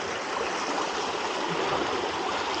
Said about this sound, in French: Ce petit ruisseau, maman.